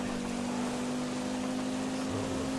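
Steady rain hiss in the GTA V video game while driving, a dense even wash of falling rain with a constant low engine drone underneath, continuous and unbroken throughout.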